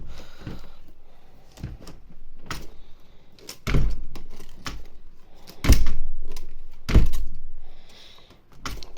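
Plastic window sash with child-safe locking hardware and a lockable handle being shut and latched, giving several sharp knocks and thuds spread over the span, with two louder clunks near the end and no talk.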